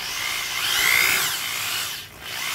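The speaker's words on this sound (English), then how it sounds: "once again, those planetary gears do sound pretty good." A Ryobi D43 corded drill with a planetary gearbox runs alone in a steady whirring whine that swells slightly, then drops briefly as it slows before spinning back up.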